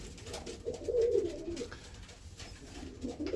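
Roller pigeons coo in a low, throaty burble, a few soft murmured phrases repeating close by over a quiet background hiss.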